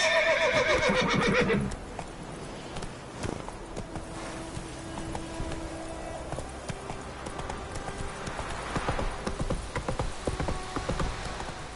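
Roach the horse gallops in a video game with steady clip-clop hoofbeats, opening with a loud whinny, then continuing at a close, even rhythm through ambient game sounds.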